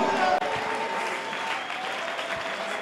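A church congregation claps and cheers to acclaim Jesus, a full, steady burst of applause filling the room from start to finish, with a faint voice beneath it.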